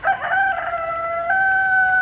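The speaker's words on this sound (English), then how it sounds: "Only thing we haven't had is chickens." A rooster crows with sustained tonal calls, loud and close, forming one continuous crow with a brief break partway through, alone without talk.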